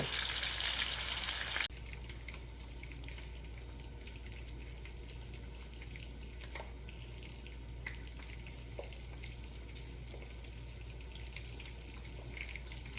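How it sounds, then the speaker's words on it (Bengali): Big fish pieces fry lightly in oil as a steady, faint sizzle with occasional small pops and clicks, preceded by a brief louder hissing burst at the start, and there is no talk. "আমি মাছগুলিকে ঠিক এরকমভাবে হালকা করে ভেজে নিলাম"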